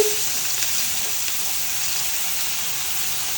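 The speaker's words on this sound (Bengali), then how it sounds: "পেঁয়াজ কুচি আর এখানে তো ফ্রাই হচ্ছে" Chopped onions frying in a small amount of oil for Korean ramen, a steady bright sizzle that holds evenly throughout with no talking over it.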